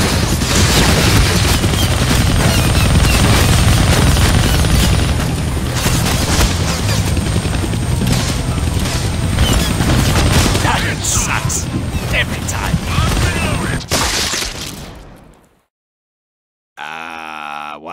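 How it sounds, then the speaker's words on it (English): Gunfire in the Deadpool video game: loud, dense continuous shooting and booming explosions with grunts, running nearly unbroken before cutting to a short silence and a brief tonal sound. "Think on that while I shoot you"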